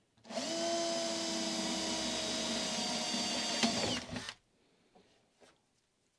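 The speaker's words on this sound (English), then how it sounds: "if you set it up right, then you should be able to drill quite straight through it." A power drill bores through a broken snowboard with wood underneath, a loud steady whine lasting about four seconds before it stops abruptly, followed by faint handling noises.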